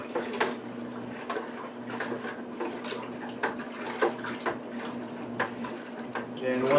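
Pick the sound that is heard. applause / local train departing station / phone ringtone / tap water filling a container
tap water filling a container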